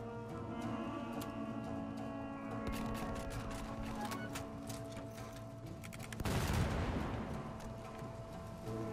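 Gunfire in Starship Troopers: Extermination comes as dense rapid bursts of shots. A louder, heavier blast swells near the end, and no voices are heard.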